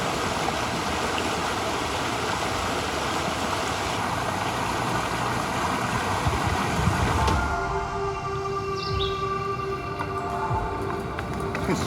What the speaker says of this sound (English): We're just riding around next to the little stream.